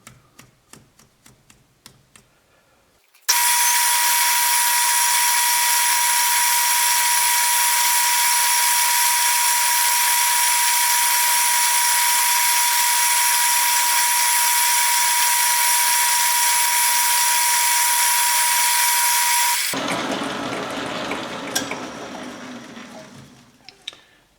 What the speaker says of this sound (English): Going for a 1/4 inch hole through.